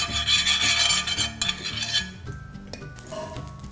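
Oil is smeared across a hot tawa for rava dosa, with close metallic scraping and rubbing strokes and light clinks that fade toward the end, no voices.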